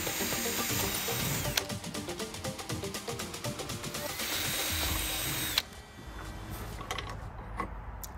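A power drill whines steadily through several bursts, close and loud, with brief pauses and a final short run as it bores pilot holes in a Ram ProMaster camper van door panel.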